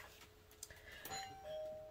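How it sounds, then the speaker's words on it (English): A home doorbell rings, its chime tones sounding faint and brief over a quiet room, with no one speaking. "Hang on just a second, doorbell rang."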